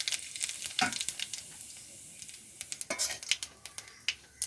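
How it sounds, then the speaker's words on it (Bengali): Whole cumin seeds splutter in hot oil in a kadai along with whole dried red chillies, cinnamon and cardamom, a faint hiss broken by sharp, scattered crackling pops near the pan. "গোটা জিরে ফোড়ন"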